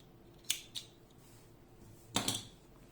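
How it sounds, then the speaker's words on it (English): Scissors snip crochet yarn on a sweater made of granny squares: two quick crisp snips, a pause, then a louder double cut, close and alone in a quiet room. "now I can cut the yarn"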